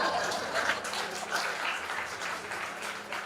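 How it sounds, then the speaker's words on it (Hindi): A church audience claps during a Hindi sermon, a broad, steady round of applause that holds throughout at moderate level, with faint voices or chuckles mixed in. "आप जानते हो ये तालियां क्यों बजा रहे हैं?"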